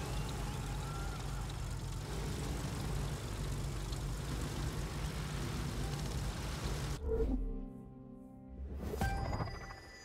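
Engine drone of an aerobatic plane flying in The Crew 2 racing game, a steady broadband roar for about seven seconds that cuts off abruptly, then brief fainter engine bursts.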